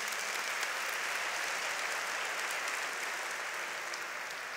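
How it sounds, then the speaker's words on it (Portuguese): A church congregation gives a big, continuous round of applause for Jesus during a sermon, even and sustained, heard at a fairly low level with no voices over it. "Você pode dar uma grande salva de palmas para Jesus."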